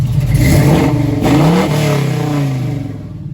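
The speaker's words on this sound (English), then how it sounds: "closed exhaust, normal sound" A 1968 Chevrolet Camaro RS resto-mod engine revs up with the exhaust closed and settles back down with a smooth, muted tone, loud and close, then fades toward idle.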